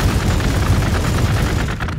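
Heavy weapon fire in Warhammer 40k: Gladius, a loud, dense barrage of booming blasts that continues without a break for two seconds.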